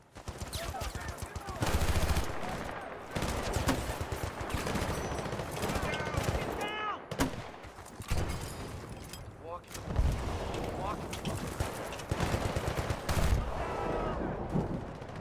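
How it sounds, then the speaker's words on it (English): Gunfire and explosions in the video game Battlefield Bad Company 2: dense bursts of automatic fire and heavy blasts crowd the whole stretch, loud and continuous, with a few sharper booms standing out. "I love like how impactful the guns sound."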